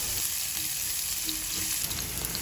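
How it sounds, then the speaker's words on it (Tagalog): Constant loud sizzle of garlic sautéing in oil in a frying pan, a dense crackling hiss close up with no talking. "masarap pakinggan yung naririnig natin yung tunog ng ating niluluto, yung paggisa-gisa"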